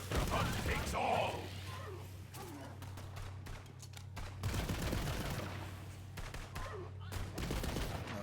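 Rapid gunfire aimed at robot enemies in Borderlands 3, a video game, bursting in quick volleys with sharp cracks over a low steady hum, while someone talks over the shooting.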